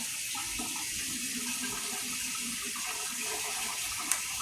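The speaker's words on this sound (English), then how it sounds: "I'm gonna get a little bit of water." Water running steadily from a kitchen tap while cooking egg rolls and crab rangoon, a continuous close rushing stream with little change throughout.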